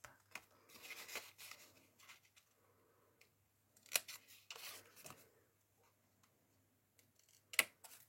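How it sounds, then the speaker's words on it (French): Small scissors snip paper at an angle in a quiet room, a few soft, scattered cuts and rustles spaced apart, with two brief sharp clicks standing out. "Je vais prendre un petit ciseau. Il est là. On va couper en biais ça"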